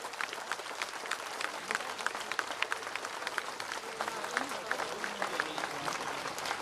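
A crowd at a political rally for an MP claps steadily, a continuous spread of many hands heard at moderate distance with faint voices underneath.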